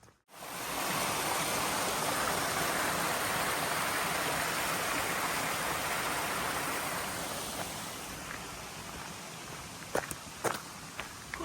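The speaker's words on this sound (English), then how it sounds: "Crossed my first waterfall." A waterfall beside a walking trail, a broad steady rush of falling water close by that eases slightly toward the end, with a few faint footsteps or knocks near the finish and no talking.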